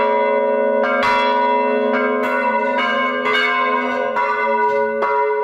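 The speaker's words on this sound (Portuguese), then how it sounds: "Ao meio-dia, os sinos das igrejas da região central soaram juntos." Church bells in a city centre ring together at noon, several loud overlapping strikes in a steady rhythm, each leaving a long resonant hum between blows, with no voices.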